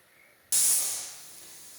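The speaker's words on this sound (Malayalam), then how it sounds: "ഒരു വിസിൽ വന്നിട്ടുണ്ട്" A pressure cooker whistle bursts out suddenly after a quiet stretch, a loud sharp hiss of escaping steam that slowly fades while still rushing on.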